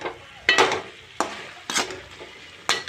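Chicken with finely chopped garlic and ginger stirred in a pan, heard as four loud scraping, sizzling bursts spaced about a second apart, close up with no talking.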